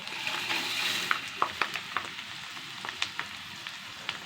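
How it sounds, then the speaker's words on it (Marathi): Dried chopped onion frying in oil, a bright continuous sizzle heard up close, with a series of sharp clicks of stirring against the pan. "मी हा एक किलो जो आपण कांदा चिरून वाळवून घेतलेला कांदा आहे तो तेलामध्ये चांगला तळून घ्यावा"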